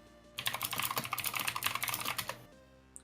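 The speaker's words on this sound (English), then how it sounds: "Graham's typing frantically." Rapid, frantic typing on a computer keyboard at a tabletop role-playing session, a dense run of close, loud key clicks lasting about two seconds before stopping, with no talk over it.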